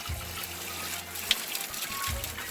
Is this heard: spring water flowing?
yes